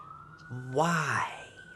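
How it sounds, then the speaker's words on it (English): A passing emergency siren gives one short, close wail that rises and falls, standing out briefly over a quiet indoor background. "that's when a siren has to go by"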